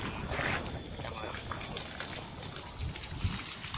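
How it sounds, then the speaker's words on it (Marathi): Water spraying steadily from a hose pipe outdoors on a windy winter evening, a continuous hissing wash with wind and talk over it. "पाईपाने मस्त पाणी बसत आहे."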